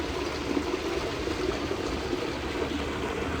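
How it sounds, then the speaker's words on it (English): Leftover rainwater rushes and gurgles steadily through storm drains after rain, a constant loud flowing churn with no voices. "you can actually hear all the water going through the drainage system"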